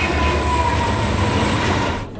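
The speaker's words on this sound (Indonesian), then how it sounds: "melakukan perjalanan jarak jauh menggunakan kereta" A train on a long-distance journey rolls along the rails in a steady, close, loud rumble with a constant low drone and hiss, fading slightly at the very end.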